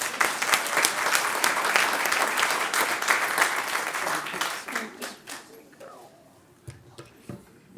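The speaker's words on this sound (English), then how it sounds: "that deserves a big old round of applause" An audience at an adoption day event applauds in a full, sustained burst of clapping that thins out after about five seconds into a few scattered claps, with voices murmuring underneath.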